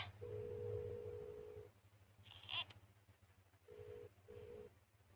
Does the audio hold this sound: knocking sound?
no